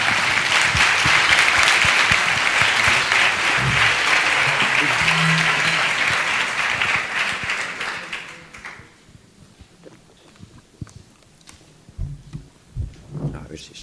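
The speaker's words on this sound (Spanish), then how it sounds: "Un fuerte aplauso." A lecture audience gives loud, sustained applause for a talk on Haitian voodoo zombies, a dense roar of clapping that fades out after about eight seconds, leaving a quiet room with scattered small knocks.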